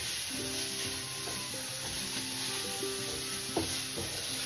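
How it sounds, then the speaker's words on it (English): Onions fry in a pan with a steady, close sizzle throughout, with faint tonal hums and a couple of soft clinks, and no speech. "I'm going to put a few onions in"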